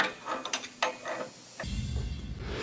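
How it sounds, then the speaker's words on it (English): A wrench turns a jacking nut to push the outer bearing race from a Toro basket roller, giving several close ratcheting clicks followed by a steady low grinding rumble as the race moves. "Continue tightening the jacking nut until the bearing is out."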